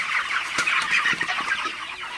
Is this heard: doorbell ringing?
no